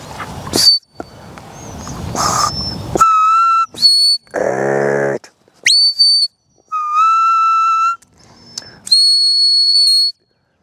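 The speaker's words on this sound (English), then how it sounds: "She should just know that it's a short whistle" Repeated sharp, high-pitched stop-whistle blasts from a stock dog handler, some short and some held longer, separated by brief silences, with a lower tone sounding once in between.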